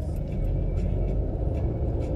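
Low, steady engine rumble from a car pulling away, heard from inside the cabin, with a dense low-end drone and faint higher hiss over about two seconds.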